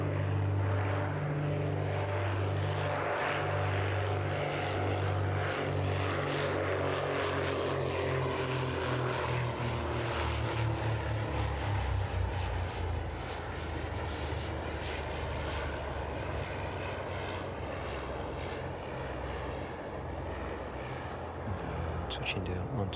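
A UK National Police Vulcan Air propeller aircraft touches down on runway 09, its engine droning loud and near with a steady throb that gradually fades into broad rumble and hiss as it rolls out.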